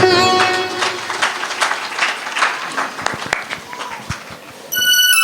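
An audience at a Ramcharitmanas recitation gathering in Katalbod village claps loudly and steadily for about five seconds, with music in the background at first.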